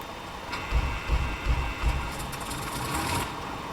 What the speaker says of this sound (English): let's go ahead and try to start engine number 2